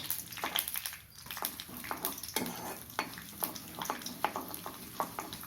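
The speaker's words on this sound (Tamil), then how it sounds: "அதே எண்ணெயில் கடுகு உளுத்தம்பருப்பு போட்டு தாளிச்சிக்கலாம்" Mustard seeds and urad dal crackle and spatter in hot oil, quick irregular pops over a soft, steady sizzle, close up.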